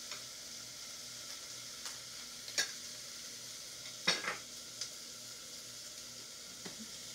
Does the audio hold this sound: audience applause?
no